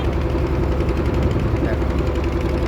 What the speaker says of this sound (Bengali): বোটটা চলছে দেখো, ঠিক আছে।